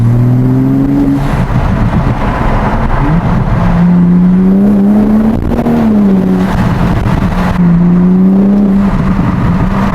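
A Toyota Supra engine with an aftermarket intake drones loudly up close, its pitch rising and dropping through several rev changes with a breathy intake whoosh.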